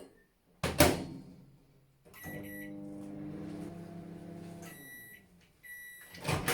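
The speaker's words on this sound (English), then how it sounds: "I'm going to microwave that for 2 minutes" A door thumps shut, then a microwave hums steadily for a few seconds before beeping several times; another thump closes it out.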